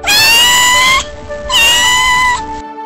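Kitten meowing twice, with two loud, clear, drawn-out high-pitched mews separated by a short pause and no other sound.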